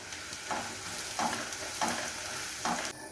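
Chopped green chillies and curry leaves fry in a pan of softened onions for a cauliflower roast curry, a steady hiss broken by four evenly spaced stirring scrapes, with no voices.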